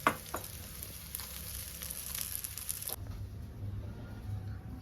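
Ragi talipattu cooks in a pan with oil brushed over the top, giving a quiet, continuous sizzle and soft crackle, with a few small pops near the start and no voices.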